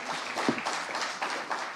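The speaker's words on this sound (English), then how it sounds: "A better round of applause" Audience at a constitutional dialogue event in Kenya applauds, a fairly soft, continuous patter of many hands clapping with slight surges, no speech over it.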